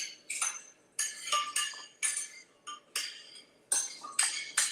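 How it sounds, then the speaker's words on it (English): Hot cooked onions are spooned into a Ninja food processor jar while making flour-free gravy, giving a series of bright clinks and knocks on the container at a steady, roughly once-per-second pace, close by and with no talking. "let's put the onions in the blender."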